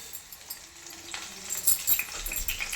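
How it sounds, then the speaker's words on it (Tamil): A handful of curry leaves tossed into hot oil for a fish curry with onions. The sizzle is soft at first, then swells into a crackling spatter, with a few light metallic clinks from the pan and utensils. "ஒரு கைப்பிடி கருவேப்பிலையை அப்படியே போட்டுடலாம்."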